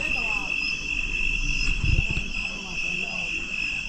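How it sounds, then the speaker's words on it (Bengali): Crickets chirp at night in the hills of Mirinja Valley, Bandarban, a steady high continuous trill filling the air while a voice talks quietly over it and faint camp noises bump underneath. "ঝিঝি পোকার ডাক"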